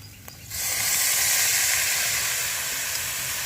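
Boiled banana flower hits a hot pan with chilli, coriander and cumin powders, garam masala and salt for mochar chop. A sudden burst of dense, loud, hissing sizzle starts after a half-second of quiet and holds steadily.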